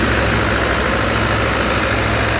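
A 2017 New Holland Fiat 640 tractor, 75 hp, runs steadily while powering a wheat thresher in Pakistan, a loud, continuous close-up drone with a low rumbling hum and no talk.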